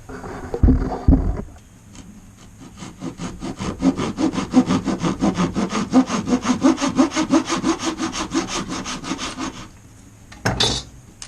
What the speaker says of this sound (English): So now I'm just going to mark them and cut them up so that I can glue them in.